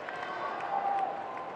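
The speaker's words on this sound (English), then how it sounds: "Sinner camp applauding" A tennis crowd at the US Open applauds steadily through the whole short moment, as a dense, even patter of clapping from the stands.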